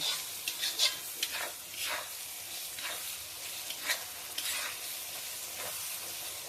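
Chunks marinated in chilli powder, yogurt and white oil fry in a pan, giving a steady close sizzle broken by repeated scraping stirs, with no talking.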